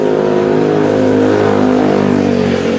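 Loud scooter engines rev and whine continuously nearby on a Bangkok street, a buzzing, droning roar of small motor vehicles filling the street.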